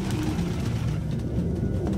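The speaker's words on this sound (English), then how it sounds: "No human could live with all these fucking pigeons." In the video game Detroit: Become Human, a crowd of pigeons coos steadily with soft, low, overlapping murmurs that fill a room, close and continuous, with no talking.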